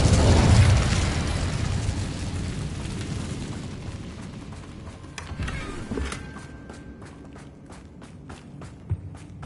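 Incendio fire spell cast in Hogwarts Legacy: a loud, close burst of flame that flares at once and fades over several seconds into quieter crackling and scattered light taps.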